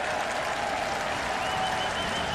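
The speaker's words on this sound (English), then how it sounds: "Once again, thunderous applause." A football stadium crowd at BMO Field in Toronto keeps up dense, continuous applause, a steady roar of clapping with no breaks.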